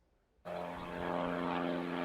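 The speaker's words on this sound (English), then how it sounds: "Airplanes continue to take off at Timmerman Airport" A small propeller airplane taking off at Timmerman Airport suddenly roars in after a quiet moment, holding a loud, steady buzzing engine drone that swells slightly as it continues.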